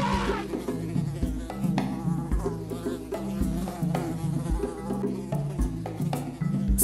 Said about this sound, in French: la mouche s'y était posée, favorisant davantage l'infection.